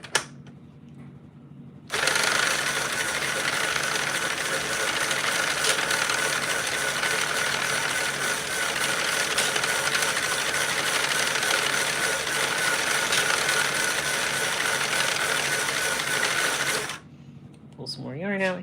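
A hand-cranked Sentro 48-pin circular knitting machine clatters steadily with a dense, rapid plastic ratcheting whir, continuous and fairly close for about fifteen seconds before stopping.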